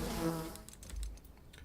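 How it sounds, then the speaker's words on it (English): Bees buzzing in the video game Enshrouded, a faint droning hum that fades quickly, followed by soft clicky taps, no talk. "Let's shoot the bees with arrows."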